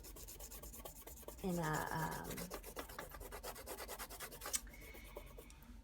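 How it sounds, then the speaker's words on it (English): A sharp tool scratches through and peels the film-like surface layer of a photograph, giving rapid rasping scrapes and a short squeaky stroke, with a brief spoken word partway through. "so you can see here it scratches through and almost peels"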